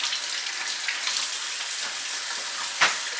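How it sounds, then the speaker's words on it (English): Water runs from a kitchen tap as a lemon is rinsed under it, a steady close hiss with a brief louder splash near the end. "Just rinsing off my lemon because I'm going to put lemon in it."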